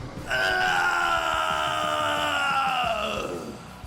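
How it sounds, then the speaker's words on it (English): A long, intense anime scream from the Saiyan Vegeta, a sustained strained yell that rises, holds for about three seconds, then bends downward and fades, loud and alone. "as he readies himself to unleash a blood-curdling scream we would have never ever heard from the Saiyan"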